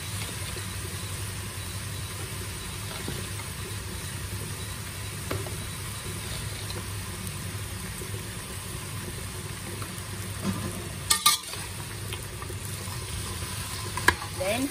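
Pork leg being stirred in a pan with black vinegar and sugar for a Chinese-style dish, a steady low sizzle and scraping with a few sharper clinks of the utensil near the end, no talking.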